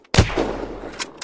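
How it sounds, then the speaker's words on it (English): A single loud bolt-action rifle shot firing intermediate ammo from recon mags in the video game Unturned, a sharp crack with a booming tail, followed by a couple of faint distant pops. "pretty much just a bolt-action rifle with decent damage"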